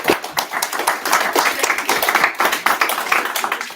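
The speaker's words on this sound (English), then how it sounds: "So give a round of applause for" Applause fills a city council regular session in West Tawakoni, a dense run of many hands clapping at steady loudness throughout, with no speech over it.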